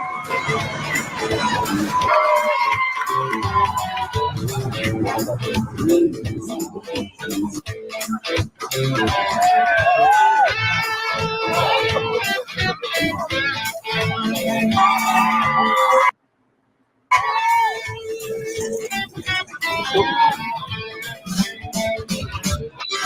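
Large carnival street crowd in Brazil, loud and dense, with shouting, whistling and chanting voices swelling and falling throughout, broken by a brief dropout near the end.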